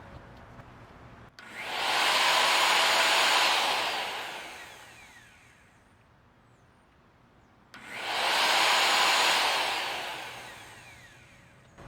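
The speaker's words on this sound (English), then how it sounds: "as long as that circular saw blade is extremely sharp, very little load is going to be added while you're cutting wood" A heavy-duty circular saw runs off a Jackery Explorer 1500 power station, cutting wood in two loud, sustained passes a few seconds apart, each rising and fading, with a quieter gap between them.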